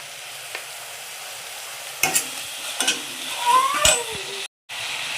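Onion, tomato and capsicum cooking in a pan for egg pulao, heard as a steady sizzle with a few scraping stirs and clanks of a utensil against the pan, then a brief break in sound.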